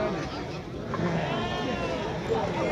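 Sheep and lambs bleat at a crowded outdoor livestock market in Morocco, the calls mixed into constant crowd chatter and nearby voices.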